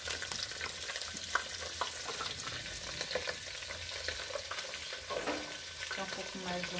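Pork fat and skin frying in a pan on a wood-fired stove, a steady dense sizzle and crackle with scattered pops and occasional stirring scrapes, close and continuous throughout.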